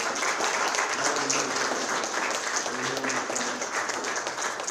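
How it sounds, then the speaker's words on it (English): Audience at a grant ceremony applauding the grant recipients, a dense, steady wash of many hands clapping at even loudness throughout, with faint voices mixed in underneath. "maybe just an early round of applause for everybody"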